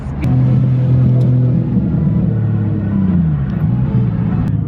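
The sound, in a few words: tiny Japanese car engine revving, likely with cams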